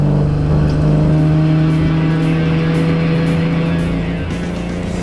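A car engine runs loud and steady as the car drives out onto a race track at a track day, the tone holding near and constant throughout with no talking.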